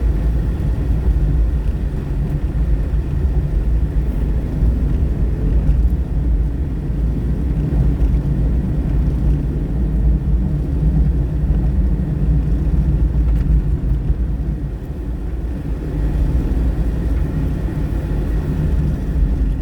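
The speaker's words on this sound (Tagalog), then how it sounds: "Muntik na rin mawala yung drone ulit" A camera drone flying over a reservoir near Ambuklao Dam in Benguet, heard as a steady, loud droning rumble that stays nearly constant throughout, with no talking.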